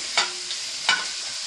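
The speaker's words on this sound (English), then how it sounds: "So now we're just going to add the rest of the meat." Onions browning in a pan as the rest of the meat goes in, giving a steady hiss with two sharp scraping stirs about half a second apart, close by.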